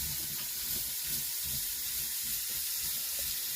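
Ham and potato soup ingredients sautéing in olive oil inside an Instant Pot, a steady close hiss and sizzle with faint stirring knocks, continuous and even throughout.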